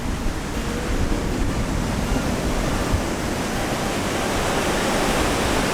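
Surf rolls in steadily at Karon Beach in Phuket, Thailand, as a broad, continuous wash of breaking waves, close and fairly loud with no voices.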